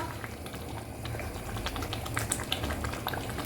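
Turnip chicken gravy (shaljam gosht) simmering in a pot, a steady close bubbling and popping with small sharp blips of bursting bubbles throughout.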